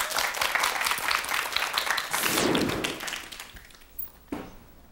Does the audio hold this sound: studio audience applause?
yes